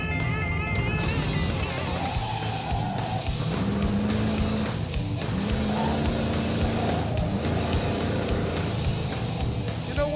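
An underpowered car is held wide open around the Laguna Seca race track. The engine drones loudly and steadily for the whole stretch, with rising and falling pitch as it works through gears and corners, and faint tire noise underneath.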